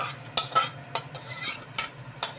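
Egg bhujia being stirred into tarka in a metal pan, a series of sharp clinks and scrapes from the spoon coming in an uneven rhythm, close and clear, with a faint sizzle underneath.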